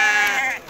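A sheep bleats at the Tuesday livestock market in Azrou, one close, loud, wavering call heard amid the market bustle.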